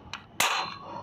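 A toy Nerf blaster fires once with a sharp, loud crack that rings off briefly, after a small click just before it; no talking.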